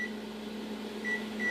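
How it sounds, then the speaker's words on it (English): A steady appliance hum runs under a couple of brief electronic beeps from an oven timer being set, close by and with no talking. "I'm going to set the timer for 20 minutes."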